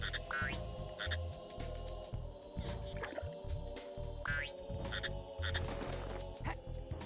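Cartoonish frog croaks and boing-like chirps from the Glover 64 video game repeat in an irregular rhythm over busy game music and effects, with no voices.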